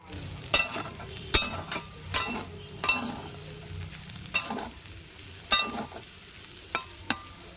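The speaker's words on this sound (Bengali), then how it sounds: "যেটুকু আলু ভাজা ওটা উনুনে একটু বসিয়ে রাখলাম" Soft frying sizzle of potatoes in a pan on a clay stove at night during a power cut, under repeated clinks and scrapes of a utensil stirring, close by, with no one speaking.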